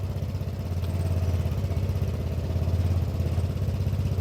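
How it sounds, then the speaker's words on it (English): A small Derbi 100cc two-stroke motorcycle engine runs steadily after a first start attempt on fresh fuel, with a loud, continuous buzzing drone holding evenly throughout, close by and alone. "We'll just see if this little 100cc starts"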